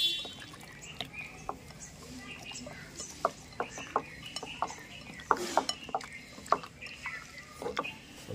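Marinated chicken that has soaked for three hours is mixed in a pot, giving scattered metallic clinks and scrapes of a utensil against the metal at an irregular pace, with faint background noise throughout.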